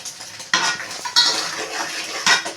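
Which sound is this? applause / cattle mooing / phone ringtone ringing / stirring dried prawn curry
stirring dried prawn curry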